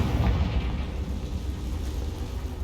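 A Confringo blasting spell explodes in Hogwarts Legacy as a low, rumbling boom that stays dense and loud for the whole short stretch, with no talk.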